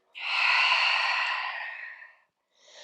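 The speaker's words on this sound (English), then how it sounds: "Open up the mouth and exhale, hands to heart center." A deep, breathy open-mouth exhale during a yoga flow, one long sustained release lasting about two seconds before tapering off, with the start of another breath following after a short gap.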